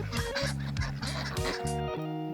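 Ducks at Conwy Water Gardens in Rowen, North Wales, quacking and honking loudly in a steady string of nasal calls, close by and alone with no talk.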